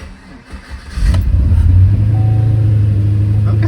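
Car engine cranking briefly and then starting after a battery charge, settling into a loud, steady, close idle rumble.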